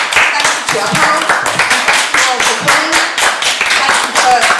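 A crowd applauds a panel at the end of a public talk, steady dense clapping at close range, with a voice talking over it partway through.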